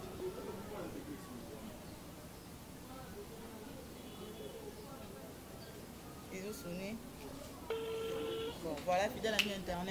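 Telephone number being dialed, a series of steady tones stepping through the keypad digits near the end, over constant background noise with talk heard earlier.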